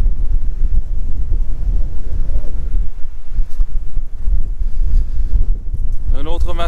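Steady cold, damp morning wind in Newfoundland buffets the microphone with a loud, low rumble throughout, gusting unevenly, with a faint high whine near the end.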